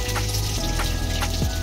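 Eggs frying in a pan give a steady, close crackling sizzle over a low continuous hum, with a few brief bursts of spatter.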